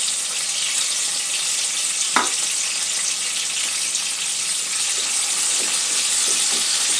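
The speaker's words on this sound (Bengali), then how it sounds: "পেঁয়াজ, আদা, রসুনটা একটু ভেজে নিতে হবে।" Onion, ginger and garlic paste fries in hot oil, giving a steady, close hiss and sizzle that runs unbroken throughout, with a single small pop and a few faint crackles.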